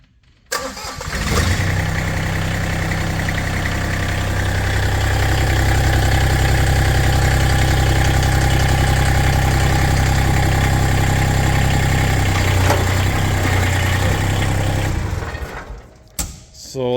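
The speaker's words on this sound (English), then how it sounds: "now we're going to drive the tractor back forward and hook" A Massey Ferguson 1GC.25 compact tractor engine starts up and runs steadily while driving, a loud, continuous low rumble for most of the clip, then cuts off near the end.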